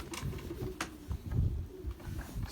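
Racing pigeons in a small Belgian-style loft give low, soft coos that come and go steadily, with some shuffling and brief bursts of wing or movement noise, fairly close and without speech.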